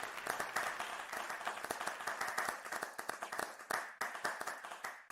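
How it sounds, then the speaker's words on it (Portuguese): Applause from a small group during a Bible study session, with a few seconds of dense, continuous clapping close by and nobody speaking. "Pode aplaudir aí, eu vou aplaudir também aqui"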